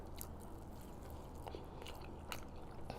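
Someone bites and chews fried chicken from Church's, soft close mouth sounds with a few crunchy bites and wet chewing, quiet and alone.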